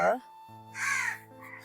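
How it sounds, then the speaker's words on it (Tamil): Crows caw one or two times close by, harsh and nasal, while a person talks over them. "இப்ப பாருங்க எவ்வளவு காக்கா இருக்கு"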